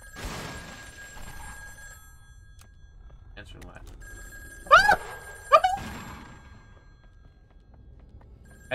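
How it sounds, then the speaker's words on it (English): A telephone in the video game In Sound Of Mind rings twice in quick succession midway through, loud and close against an otherwise quiet background. "Hey, the phone's for you. Go pick it up."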